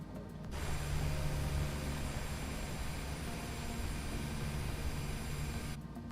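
Cessna Longitude private jet taxiing in Microsoft Flight Simulator 2020, a steady broad whine and rumble of idling jet engines, constant and moderately loud from start to finish, with no talk.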